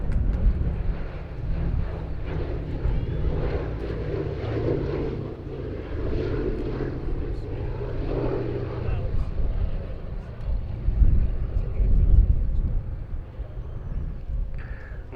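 Boeing B-17G Sally B bomber flying at the Duxford Battle of Britain airshow, a steady droning piston-engine rumble that swells and fades as it passes, with some voices and crowd noise underneath.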